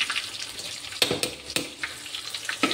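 Curry seasoned with cumin, carom and fenugreek powder fries in a pan, a soft crackling sizzle broken by a few sharp scrapes and clinks as it is stirred.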